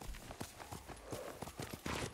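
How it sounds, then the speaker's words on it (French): A horse's hooves clip-clop in a quick, regular trot in the Ghost of Tsushima video game, crisp and fairly close but quiet overall, with no voice over it. "Tu es un bon cheval, Kage."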